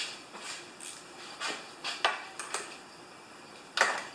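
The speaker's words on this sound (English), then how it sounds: "We'll do it the easy way with a metric 10 millimeter spanner" A 10 mm metric spanner undoes a fuel drain bolt, giving a handful of sharp metallic clinks and taps spread unevenly over a few seconds, close but fairly quiet against a low background hum.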